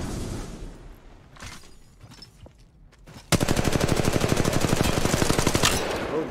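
Gunfire in the video game Warzone Mobile: a close, loud, sustained stream of rapid automatic shots bursts in after quieter scattered thuds and keeps going to the end.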